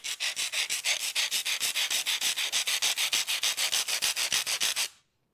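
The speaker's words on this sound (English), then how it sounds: "now I'll cut some very thin fiberglass sheet to show you just how effective these tools really are" A coarse Perma-Grit tool cutting thin fiberglass sheet in rapid, even rasping strokes, about six per second, close and loud for nearly five seconds before stopping abruptly.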